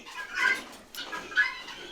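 Peafowl and guinea fowl call on a farm, a few faint, shrill bird cries in short bursts, somewhat distant.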